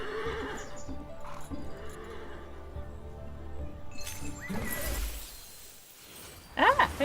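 A horse mount in a video game neighs and its hooves clip-clop, mixed with game music and effects, then a sharp glassy crash and a brief shrill whinny near the end.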